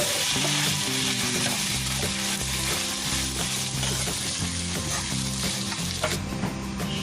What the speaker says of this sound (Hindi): अब इसमें हम सॉल्ट डालेंगे, इसको अच्छे से मिक्स कर लेंगे।